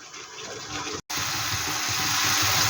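A small splash of water poured into a spice paste for a Bengali shol fish and bori dish, a steady close hiss of liquid after a brief break, with no talking.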